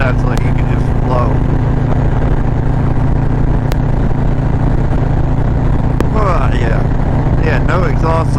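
A motorcycle engine on a Christmas Eve ride drones steadily and loudly throughout, its exhaust not running right, with a rough, ticking valve clatter riding over the constant hum.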